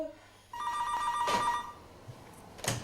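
Telephones ring with an electronic bell trill that starts abruptly and repeats in short bursts, fairly quiet and mixed with faint background rustling and no clear speech.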